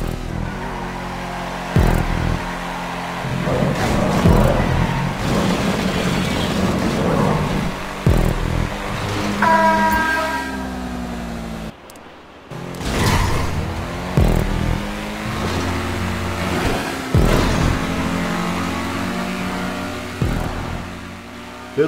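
Supercar engine in a street race through a city with a tunnel in the video game GTA V Online, revving and accelerating hard almost continuously, with rising gear-shift whines, a brief drop near the middle, then pulling up to full speed again.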